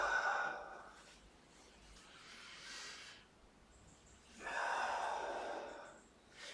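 Audible breaths come during an upper back and thoracic spine mobility stretch: two long, airy breaths spaced a few seconds apart, with quiet stretches between them. They are close and fairly soft, with no talking.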